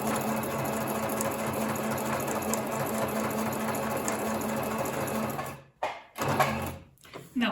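A sewing machine runs continuously with a fast, even mechanical whir up close, stitching a pocket with shortened stitches, then stops and starts in a few short bursts at the end.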